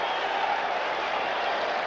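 A crowd at a World Extreme Fighting MMA event roars steadily in sustained broadband cheering and applause, fairly loud and even throughout with no clear voices standing out.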